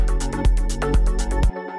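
Techno beat with a dry hi-hat left without sidechain compression, steady bright ticks riding over a sustained melodic bed and a kick thumping about every half second, cutting off abruptly near the end.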